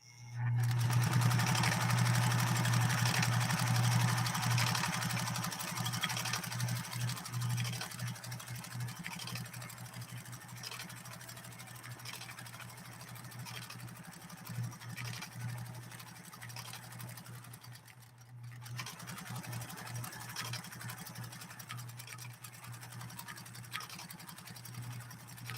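A Pfaff 130-6 sewing machine runs steadily with its thread spool feeding off the machine surface, giving a continuous close mechanical whir with rhythmic clatter that briefly dips near the end before resuming.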